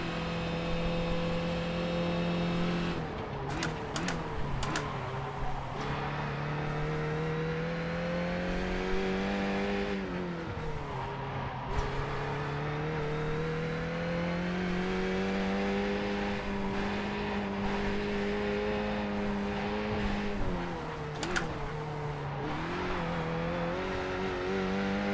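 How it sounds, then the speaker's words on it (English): A low-horsepower race car engine on a grippy track, its drone bogging down and then pulling back up in long, wavering pitch sweeps, steady and fairly close, with no talking over it. "The car was kind of bogging down from the low horsepower and lots of grip"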